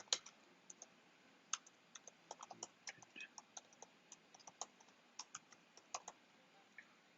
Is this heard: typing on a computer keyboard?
yes